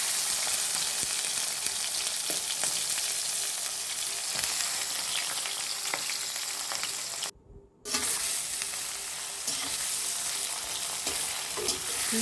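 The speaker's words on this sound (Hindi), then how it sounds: "जी हमारे करेले फ्राई हो रहे हैं।" Bitter gourd (karela) fries in a pan with a steady loud sizzle, broken by occasional scrapes and clinks of stirring and one brief cut in the sound.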